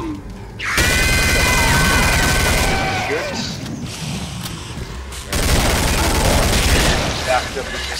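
Rapid, dense gunfire rattles loud and close in the Killing Floor video game, with a shrill screeching tone and a second sustained burst of shots after a short lull.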